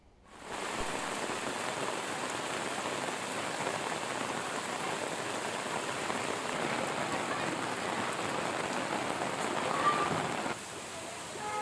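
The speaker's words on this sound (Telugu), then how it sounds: "గ్రేటర్ పరిధిలోని అన్ని ప్రాంతాల్లో కుండపోత వర్షం కురిసింది" Heavy rain pours across Hyderabad during a flooding downpour, a dense, steady roar of drops hitting surfaces that holds loud and unbroken throughout, with no talking.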